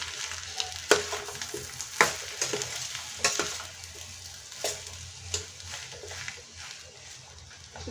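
Spoon stirring a dry masala mix of garam masala, red chilli and coriander in a frying pan, with soft scraping strokes and faint sizzling, plus a few sharper clinks against the pan.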